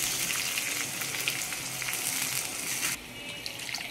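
Spice paste and curry leaves fry in a hot pan with a loud, dense sizzle that eases slightly near the end, with no talk.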